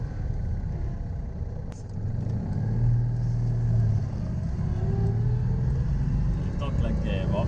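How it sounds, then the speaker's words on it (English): Citroën 2CV engine droning steadily while driving, with a sustained transmission whine running beneath it through the whole stretch and a person talking over the noise. "So much transmission whine."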